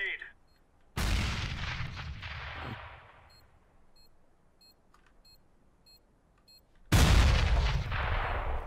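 Grenade going off in Counter-Strike: a sharp, loud blast at the start trails off into a long fading rumble, then after a quiet stretch with a faint voice a second heavy explosion hits near the end.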